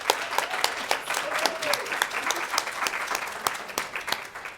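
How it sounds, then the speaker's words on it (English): An audience at a 22q parent and caregiver education day gives a sustained round of applause, with dense, moderately loud clapping throughout and a few sharper individual claps standing out. "I thought we could start by just a quick round of applause to say thank you."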